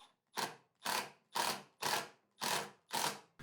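A couple of 1 1/4 inch screws are driven through a board butted against a Hercules table saw miter gauge, heard as six evenly spaced, loud whirring bursts from a driver with short pauses between, close up and with no talking.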